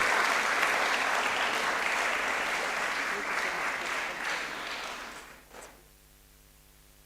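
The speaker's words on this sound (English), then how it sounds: "Please, let's continue to clap for him." Audience applause at a Department of Modern Languages anniversary colloquium, a full steady clapping from the room that fades away over several seconds and leaves quiet room tone with a faint hum at the end.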